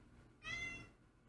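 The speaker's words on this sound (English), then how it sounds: "You hear my cat, don't you?" A pet cat gives a single drawn-out meow, close and fairly clear, rising out of a quiet room and fading after about half a second, with no one talking over it.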